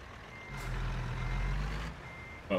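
A truck's reversing alarm in American Truck Simulator gives a steady run of beeps over a low diesel engine rumble, then stops, followed by a brief mechanical clatter at the end.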